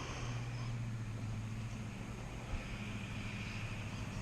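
A small RC rescue boat with a trolling motor hanging off its hull pushes through weeds on the water, giving a steady low motor hum under wind noise, faint and unbroken, with one small bump midway.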